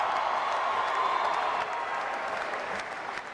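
A basketball championship crowd applauds and cheers as players come out, a steady, dense wash of clapping that stays loud throughout and fades slightly toward the end.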